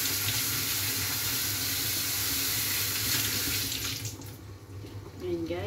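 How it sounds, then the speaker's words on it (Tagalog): Mushrooms are washed under a running kitchen tap, the water pouring in a steady, close hiss that thins and splashes unevenly as the stream is disturbed toward the end. "Hugasan lang natin sa loob niya"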